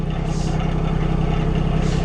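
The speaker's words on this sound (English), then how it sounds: "it sounds like an engine starting. It's the lubrication system." An excavator's automatic lubrication system runs with a steady, close mechanical drone, a constant engine-like hum with a faint higher hiss that swells briefly at the start and again near the end, without pause for about two seconds.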